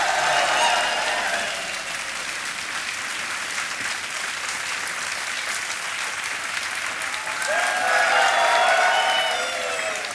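The studio audience of the Kaun Banega Crorepati quiz show keeps up about ten seconds of continuous applause with crowd murmur, swelling again toward the end.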